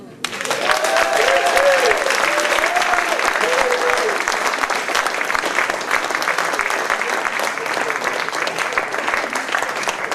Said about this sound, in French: Qu'on peut encore applaudir, s'il vous plaît.